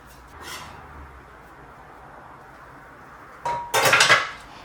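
Boiled, peeled potatoes being mashed in a pot, quiet at first, then a close burst of metal utensil scraping and clanking against the pan toward the end.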